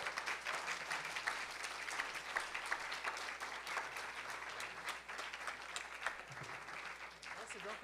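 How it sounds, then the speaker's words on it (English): Audience applause after a faculty presentation, dense continuous clapping from a room full of people lasting several seconds, with brief voices mixed in. "I think we need to give a little bit more applause to Melissa Wilkinson"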